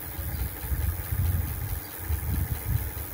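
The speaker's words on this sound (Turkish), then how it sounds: "Tam gaz veriyorum şu anda bisikletime." An electric bicycle motor running at full throttle gives a steady low hum with a slight throb, moderately loud and close, with no talk over it.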